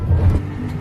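A two-wheel-drive truck on an off-road trail, its engine giving a close, loud low rumble that swells briefly and then settles.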